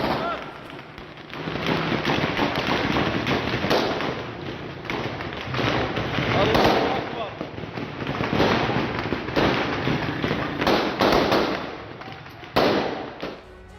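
Heavy gunfire in fighting in Sweida, Syria, dense overlapping cracks and thuds in a continuous barrage, loud and sustained, with voices underneath.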